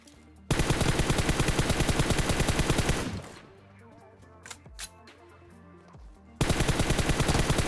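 Rapid automatic gunfire from a fight in the video game PUBG rattles loud and close for several seconds, drops away to scattered clicks and distant shots, then resumes in another sustained burst.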